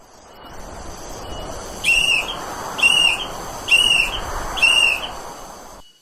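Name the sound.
whistle blown as a distress signal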